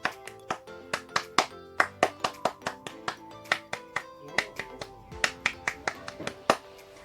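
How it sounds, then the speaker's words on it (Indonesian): A scout group performs the rhythmic tepuk pramuka, a patterned sequence of sharp, loud claps in syncopated bursts. A voice or chant sits faintly underneath. "Supaya kita lebih semangat, kita tepuk pramuka."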